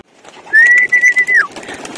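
A racing pigeon calls once, close and loud: a drawn-out tonal note that pulses and then drops away, with faint background rustle and no talk.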